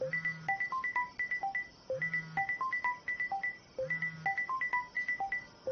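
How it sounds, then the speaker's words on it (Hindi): Mobile phone ringtone playing a repeating electronic melody of bright beeping notes over a low buzzing tone, cycling about every two seconds, loud and alone with no talk. "किसका फोन है?"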